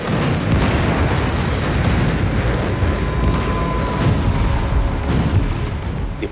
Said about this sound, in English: the sound of explosions suddenly echoed through the airbase in Srinagar.